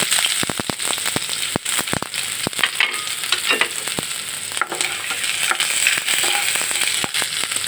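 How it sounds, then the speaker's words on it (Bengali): Chopped onion hitting hot oil for a Bangladeshi small-fish dish, loud crackling sizzle with sharp spattering pops and stirring scrapes, close and continuous with no talk. "তেল গরম হয়ে গেছে এবার আমি পেঁয়াজ কুচি দিয়ে দিব"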